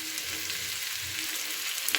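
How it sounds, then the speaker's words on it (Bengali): Leftover rice and vegetables fry in a hot pan with a steady, close, continuous sizzle and crackle and a faint stirring scrape, with no voices. "এটা দেওয়ার পরে আবার একটু ভাজা ভাজা করে নিচ্ছি।"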